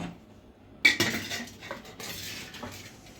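A serving spoon scrapes and clinks against a pot of pulao rice: one sharp metallic knock, then a short run of nearby scraping and clattering, with no talk.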